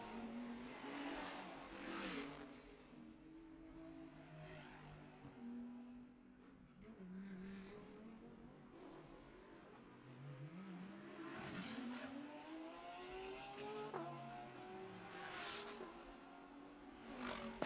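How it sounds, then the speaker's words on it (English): Distant Porsche race car accelerating out of turn 6 at the Bangsaen Grand Prix street circuit, its engine note rising through gears with faint tire noise, plus other passing cars and some background commentary. "That's definitely a Porsche I just heard in the background."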